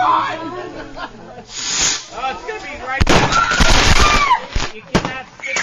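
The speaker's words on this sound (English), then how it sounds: "This is the fireworks." A fireworks display played back from a recording: hissing launches, whistling rockets and sharp booming bursts, with people talking over it.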